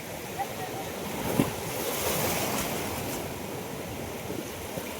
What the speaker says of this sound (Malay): Ombak besar, ombak besar.